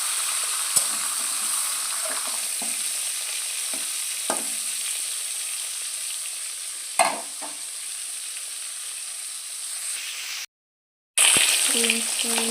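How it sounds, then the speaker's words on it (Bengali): Continuous sizzling of food frying in hot oil, with occasional scrapes and clinks of a utensil stirring, and a brief dropout near the end. "ভাজা ভাজা হয়ে উঠছে উল্টে দেওয়া যাবে"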